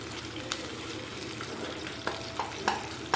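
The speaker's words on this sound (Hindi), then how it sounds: "ये मैंने प्याज 1 अदद लिया है छोटे साइज़ का और इसको हम फ्राई करेंगे" A small onion frying in oil in a frying pan crackles softly and steadily, with a few sharp spatula clicks near the end, quiet and close.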